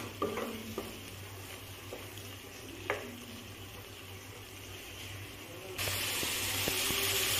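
Spice paste with turmeric frying in oil, stirred with a few scrapes and knocks over a low sizzle, until a sudden louder, brighter hiss takes over near the end.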